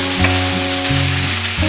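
Fish frying in olive oil in a frying pan, a dense continuous sizzle and crackle close by, with low tonal hum tones beneath and no talking.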